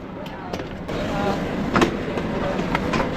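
A EuroCity train running from Germany to the Czech Republic rolls into a station with rumbling wheels and intermittent clicks and clacks over rail joints, steady and fairly close.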